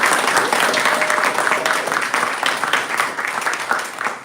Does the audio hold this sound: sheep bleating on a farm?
no